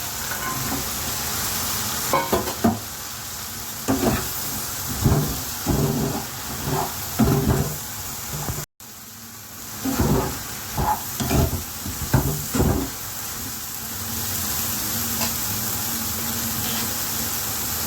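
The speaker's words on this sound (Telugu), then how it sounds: "ఒక హాఫ్ స్పూన్ పసుపు వేస్తున్నాను వేగిపోయింది కదా ఇప్పుడు వేసి పెట్టుకున్న ఫుల్ మకాన్ని వేస్తున్నాను" Phool makhana fries in a pan with turmeric, a constant sizzle running under repeated stirring scrapes and spoon knocks in bursts, near and fairly loud, with a brief dropout midway.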